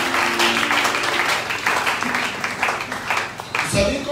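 Church congregation at a seminar assembly breaks into applause, a dense rhythmic clapping crowd close by with voices mixed in, ending with a sudden low thud near the close.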